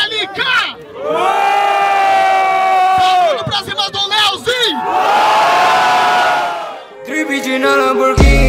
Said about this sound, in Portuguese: Barulho pra cima do LK